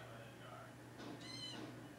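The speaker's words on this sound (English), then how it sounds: "Don't meow at me." A house cat gives a faint, short meow over a steady low hum while someone talks casually in the room nearby.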